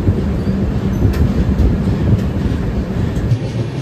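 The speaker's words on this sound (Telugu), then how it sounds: "ఇంక ఎక్కువసేపు ఆపాడు అనమాట ట్రైన్." The Visakhapatnam–Mahbubnagar Express, train 12861, rumbles at a station with a loud, steady low rolling roar of railcars and a faint high whine, continuous throughout.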